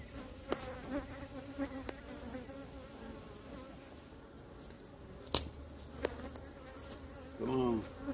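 Bees buzzing steadily around a crowded beehive, a continuous close drone with a few sharp knocks and clicks and a brief louder buzz near the end.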